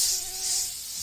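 Steady, close, high-pitched whine of a mosquito buzzing continuously in a short advertisement spot, heard alone with no voices.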